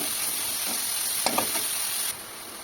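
Grated carrots sizzle in hot ghee in a pan for carrot halwa, a steady close hiss of frying with a couple of soft stirring scrapes, no talking.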